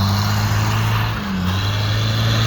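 An Isuzu diesel truck on mud tyres drives in four-wheel drive, its engine a steady, close, low drone that holds evenly throughout with a slight dip midway.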